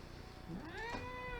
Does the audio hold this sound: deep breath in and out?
no